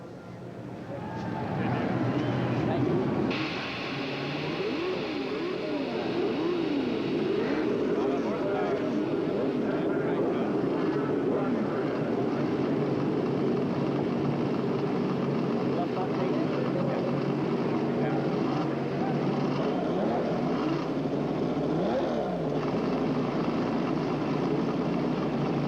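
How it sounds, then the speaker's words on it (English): IndyCar race car engines at the 1989 Meadowlands street race start up together and rev, a dense, loud roar of many engines with rising and falling revs, heard from a distance through the crowd's ambience. "Gentlemen, start your engines."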